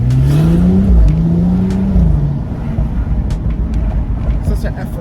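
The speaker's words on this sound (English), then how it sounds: "how I get it to make dump valve noise is like I press the gas, let go" A BMW M135i engine with a BMS intake revs hard under boost, and the dump valve lets off with a whooshing release, up close and loud, while someone talks over it.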